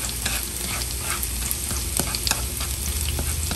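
Ginger and scallion roots sizzle and crackle in a hot pan while being stirred, a steady close frying hiss with small pops and scraping taps.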